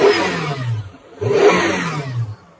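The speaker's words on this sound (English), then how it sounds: "I'm just going to reach out and rev the car a bit." A Mitsubishi car engine is revved by hand during a mass air flow sensor check, rising in two distinct surges that fall back toward idle in between, close and loud with no talking.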